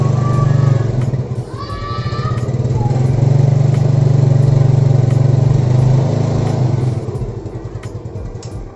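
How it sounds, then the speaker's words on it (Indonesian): A Yamaha Mio Sporty scooter with a juddering pull-off caused by a CVT fault is revved at half throttle, its loud, close engine drone rising and falling with a rough, stuttering pulse over several seconds. "Gasnya setengah, mau jalan agak loncat-loncat ya."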